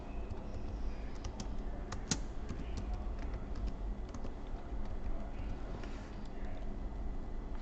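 Steady computer keyboard typing runs throughout, soft and continuous with scattered sharper key clicks, close by and alone.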